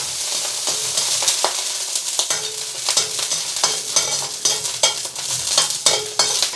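Two garlic cloves fry in about a tablespoon of hot oil in a pan, a loud, close, steady sizzle with crackling pops and scraping stirs throughout, and no talking.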